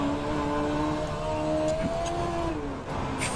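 Dirt midget race car engine in iRacing at Fairbury, a continuous high whining drone with shifting pitch as the throttle eases, steady and close, with no talk over it.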